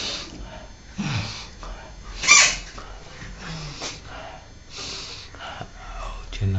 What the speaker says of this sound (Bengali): নাক টানুন।